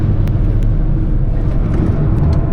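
A Lada Vesta engine revs hard at about 6,000 rpm on the Nürburgring, a loud, steady, dense drone and rumble with road noise that holds throughout, no voices.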